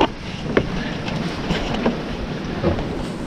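Steady wind rushing over a sailboat beating close-hauled in 15 to 20 knots, with a broad continuous roar and soft intermittent gusts and creaks, no talking.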